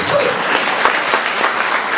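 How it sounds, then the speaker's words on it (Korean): An audience at a church gathering claps loudly and steadily, a dense close applause holding for a couple of seconds. "박수까지 치실려면 아주 세게 쳐주시기 바랍니다"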